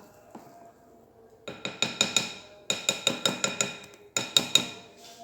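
A spoon clinks briskly against a bowl while stirring cake batter, in quick rhythmic runs of sharp taps broken by short pauses.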